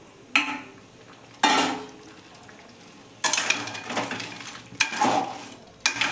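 Sautéed crab being added to masala in a pan for crab masala gravy and stirred, with a few sharp metal spoon clanks and scrapes against the pan separated by quiet pauses, close and without talk.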